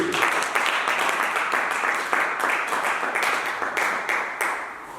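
A church congregation at a gospel service breaks into a burst of loud, dense applause that fades slightly over a few seconds, with crowd voices mixed into the clapping.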